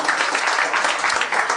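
A live audience applauds, a brief, dense burst of clapping from many people, fairly loud and unbroken.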